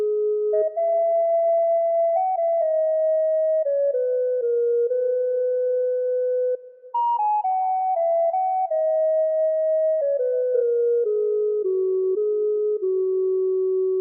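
Self-resonating filter in the Synthmaster 3 software synth, a pure sustained sine-like tone stepping through a series of pitches as the frequency knob is swept, steady and loud with no talking.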